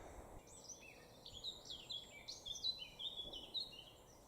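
Several small birds chirp and trill in quick, high phrases in a bluebell wood in the North York Moors, fairly distant and soft, against a quiet outdoor background.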